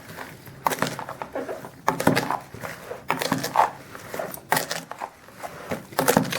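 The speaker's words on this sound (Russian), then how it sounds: "Теперь я хорошенько перемешиваю." Spoon stirring tomatoes with coarse rock salt and sugar in a bowl, giving repeated scraping and knocking strokes in an uneven rhythm, close and fairly loud, with no talking.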